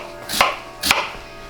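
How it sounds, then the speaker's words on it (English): A knife cuts through a whole squash on a cutting board, two firm chopping strikes about half a second apart, close and crisp with no talk. "We're gonna cut these in half, I'm gonna de-seed them"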